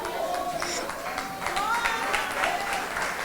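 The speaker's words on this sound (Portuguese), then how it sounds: "aplauda ao Senhor" A church congregation applauds during a worship service, a steady wash of clapping that fills the room, with a voice speaking over it.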